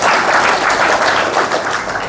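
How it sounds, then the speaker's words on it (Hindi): Brief burst of group clapping from a gathering, dense and fairly loud, a short continuous patter with no talk over it. "ताली बजाओ"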